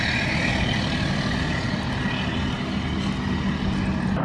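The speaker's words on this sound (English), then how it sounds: "Lots of big trucks in our neighborhood because it's still" Heavy trucks rumble steadily through a residential neighborhood of new-build construction, a continuous loud low engine drone with broadband road noise lasting throughout, no talking.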